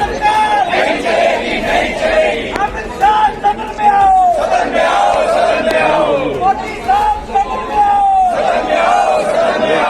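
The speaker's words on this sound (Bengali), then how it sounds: "সংসদ চত্বরের মধ্যেই তারা এই স্লোগানিং করতে থাকেন" A large crowd chants political slogans in unison inside the parliament premises. The loud, close, rhythmic shouted phrases repeat every couple of seconds with overlapping voices.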